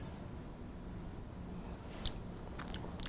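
Someone bites into a hot vegetable dish of tomato and onions, with one crisp bite followed by a few soft chewing sounds, close and quiet.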